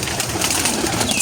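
Pigeons coo softly in a pen or loft, a continuous low murmur of cooing and faint rustling throughout, with no talk over it.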